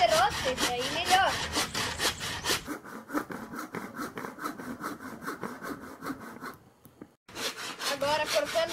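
Handsaw cutting through wood: rapid, rhythmic back-and-forth rasping strokes close by, pausing briefly near the end before resuming, with no talk over it.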